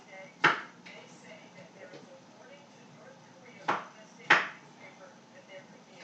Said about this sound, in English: Cauliflower, just a rough chop on that.